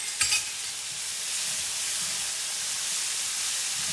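Minced garlic and vegetables sauté in a pan with a steady, even hissing sizzle, after a brief clatter at the start as the garlic goes in.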